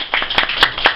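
Hand clapping in a lecture hall, four quick sharp claps close by over a brief moment, with no talking.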